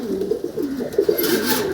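Several breeding pairs of pigeons, including white pigeons, coo steadily in a loft, soft rolling coos overlapping close by for the whole stretch with a brighter rustle near the end.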